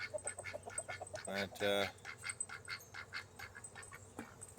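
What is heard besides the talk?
duck quacking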